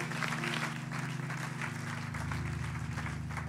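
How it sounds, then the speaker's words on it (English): A church congregation at a Sunday morning service claps hands in praise, a dense continuous wash of applause over sustained organ or keyboard chords. "Come on, give God hand claps of praise."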